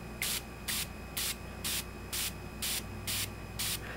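Lamisil AT continuous spray bottle squirted into water, eight short even hissing bursts in a steady rhythm, close and fairly quiet against a faint background hum.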